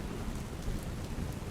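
Heavy monsoon rain pours steadily in Gujarat, a dense, continuous hiss of rain on surfaces with no pauses and no voices.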